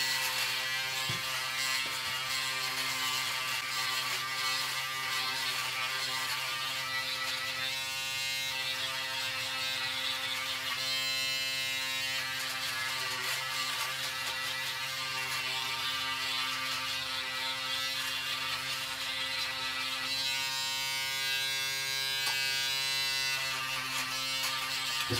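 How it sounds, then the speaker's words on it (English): A steady electric razor buzz runs continuously and fairly loud, with a rich harmonic hum and slight shifts in tone as it moves against skin. "that's a good sound in the razor right there."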